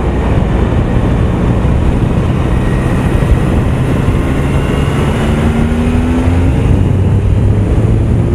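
A Triumph Tiger Sport 1050 triple motorcycle engine hums at steady speed close by, with low harmonic tones rising slowly through continuous wind rush and no voices.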